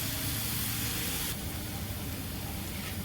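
Chopped onions sautéing in a pan for Maharashtrian green chilli thecha give a loud, steady hiss that fills the whole stretch and eases slightly partway through, with no talking.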